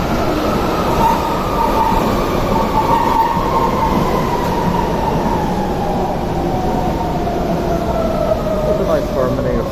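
Trains run on a railway in Prenzlauer Berg, Berlin: a loud, close, continuous rumble of rolling wagons with squealing, slowly falling wheel tones across ten seconds, with faint talk underneath.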